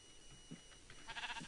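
Sheep bleating in the video game Minecraft: a few short, soft bleats close together, quiet and fairly faint, with no talking over them.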